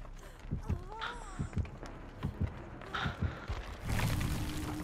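The killer's terror-radius heartbeat in Dead by Daylight thumps in a slow, regular rhythm, with a voice speaking faintly in places, before a brief burst of broadband noise near the end.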